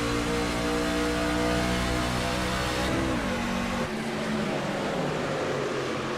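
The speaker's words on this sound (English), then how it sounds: "Riding along with Papa Tater as he runs through the gears" Race car engine revving up through the gears at a restart, a continuous droning roar with rising pitch, a brief dip and shift near the middle, then a rougher, noisier engine wash carrying on.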